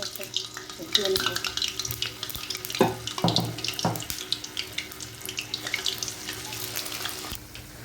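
Spinach pakoras frying in hot oil in a home kitchen, a steady crackling sizzle with a few louder bursts, as if batter balls are dropped in, and running water from a nearby tap underneath.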